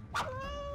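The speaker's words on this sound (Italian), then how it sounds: "Questo è un gatto." One short meow from a cat, close by, with a rising start and a held tonal tail.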